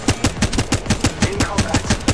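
Rapid automatic weapon fire in Apex Legends Mobile, a close, loud, evenly spaced burst of about a dozen shots over roughly two seconds, with no voices.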